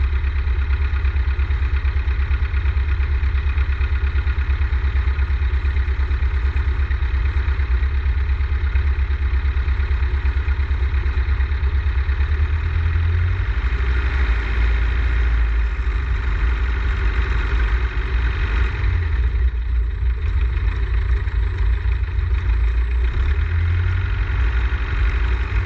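Light aircraft engine idling at about 1100 RPM before entering the runway, a loud steady low droning rumble with a constant hum that shifts slightly in pitch partway through, no voices.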